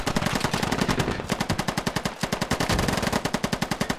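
Sustained rapid automatic gunfire from the online military shooter game Squad, a dense, loud, steady rattle of shots running nearly unbroken with only brief gaps, no talk over it.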